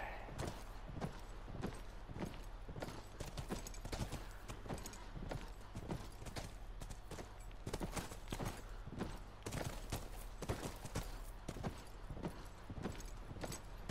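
Steady clip-clop of horse hooves walking in The Last of Us Remastered, a continuous rhythmic clatter over a low droning background, with no talking.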